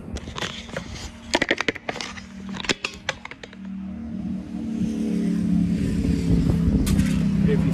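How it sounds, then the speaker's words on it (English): A skid loader engine fitted with an external 12-volt coil is cranked over by its starter on jumper cables. A few clicks and clunks give way to a loud, steady whirring spin that runs on without firing. "this is how I've been cranking it. So you see, it spins over real good"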